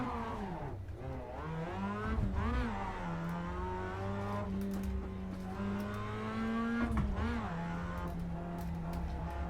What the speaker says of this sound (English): The Mazda MX-5, awesome little car, fantastic little sports car